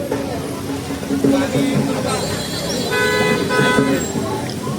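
A car pulls up at a Ganesh immersion ground, its engine and short horn toots rising out of a steady crowd murmur, with people talking nearby throughout.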